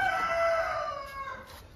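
A rooster crows once, close by, a loud drawn-out tonal call that falls in pitch and fades toward the end, heard on its own without talk.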